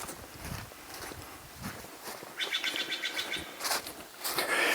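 Birds chirp and twitter outdoors in a garden by raised beds, fairly close, in short bright phrases over steady outdoor rustle and scuffing, with no talking.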